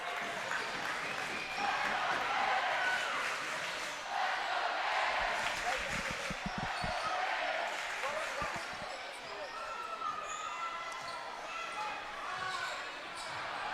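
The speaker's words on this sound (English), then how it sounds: "he is definitely feeling the roar from our Greenwood crowd" A home crowd at a Greenwood high school basketball game against Bowling Green roars and cheers in a large gym, steady and loud throughout, with basketball bounces and sneaker squeaks under the noise and a commentator talking over it.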